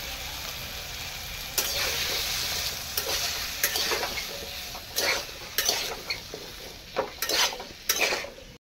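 Pumpkin and potato frying with dried red chillies and five-spice seeds in a pan, a steady sizzle broken by repeated sharp scrapes and clacks of a spatula stirring against the metal.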